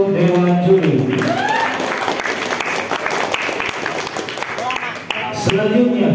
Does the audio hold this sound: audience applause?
yes